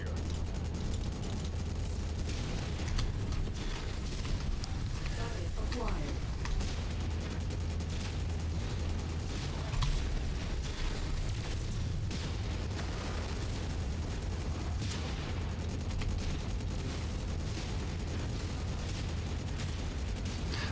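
Heavy weapons fire from a modded Mauler mech carrying four Gauss rifles in MechWarrior 5, with continuous loud booms, bursts and rumbling blasts that layer densely for about twenty seconds.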